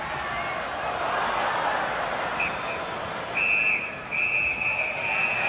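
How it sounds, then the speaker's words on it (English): Referee's final whistle at a 1995 Rugby World Cup match between South Africa and Canada, sounding as two or three sharp, sustained blasts partway through, set against a loud, steady stadium crowd roar and commentary. "that's the referee's final whistle then"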